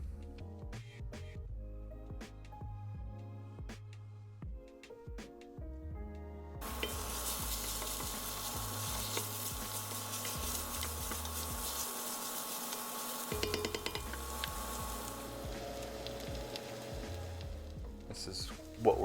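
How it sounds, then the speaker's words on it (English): Onions and garlic sizzling in a pan for pork belly adobo, first soft stirring scrapes and taps, then a sudden loud steady sizzle that continues under occasional utensil clinks, close and continuous. "we're gonna stir that together and let everything come together and just slowly cook down together until the onions are nice and translucent"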